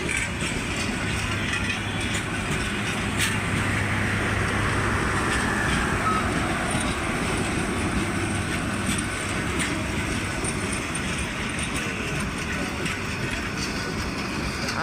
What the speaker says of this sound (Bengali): অনেক ধীর গতিতে চলতেছে ট্রেনটি।